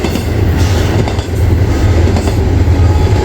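Loud, steady rumble of a freight train rolling past up close with two GE locomotives running as rear distributed power, the wheels and cars giving a continuous roar with faint rhythmic clatter.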